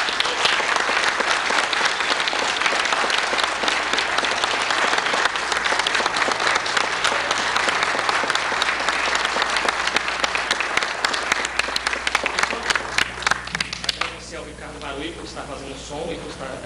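Sustained audience applause for a guitar soloist at a seresta concert, dense clapping across the room that thins toward the end, with a voice speaking over it.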